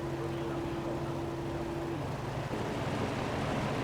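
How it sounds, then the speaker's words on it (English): Renault RS6 F1 engine idling on the starting grid in the game F1 2017, a faint, steady humming idle tone that holds for about two seconds before fading into a low background rumble. "Nice idle sounds on this RS6 Renault engine"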